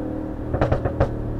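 A 730bhp Audi RS6 engine drones low and steady, then pulses in quick throaty surges as it accelerates, heard from inside the car.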